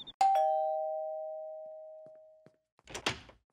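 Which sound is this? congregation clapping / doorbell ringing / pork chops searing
doorbell ringing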